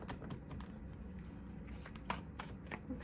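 Tarot cards being shuffled by hand during a reading, a soft, close riffle of card edges with light flicks and taps, quiet and continuous with no talk.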